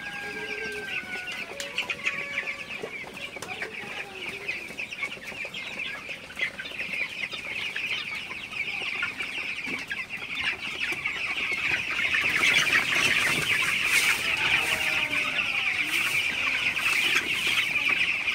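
A flock of broiler chickens clucking steadily while drinking water in a poultry shed, a dense, continuous chorus of close clucks and peeps that grows slightly louder toward the end, with no talking.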